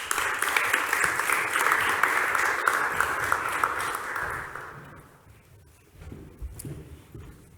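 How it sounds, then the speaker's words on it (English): Audience applauding a speaker being introduced at an athlete-transition event, steady clapping for about five seconds before fading out into quieter room noise. "Please, huge applause to Mr."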